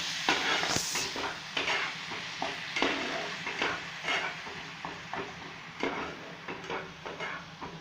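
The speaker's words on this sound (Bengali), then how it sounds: "এবার পেস্টটা দেওয়ার পর আমি নাড়াটা দেবো।" A spice paste with cumin powder and Kashmiri chilli being stirred in a pan for a paneer dish, soft sizzling with intermittent scraping and light metal taps from the spoon, fairly quiet and with no talking.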